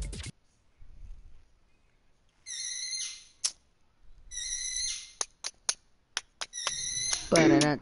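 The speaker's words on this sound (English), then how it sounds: "Sorry about my bird, guys." A pet bird squawks and whistles in bursts: shrill harmonic calls, then a run of quick sharp chirps and a final rough screech. A voice murmurs low in the background.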